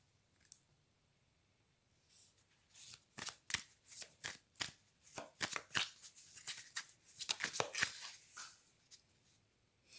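A deck of cards being shuffled: after a single early tap, a rapid run of crisp riffling bursts and flicks comes close and fairly loud, with no talking.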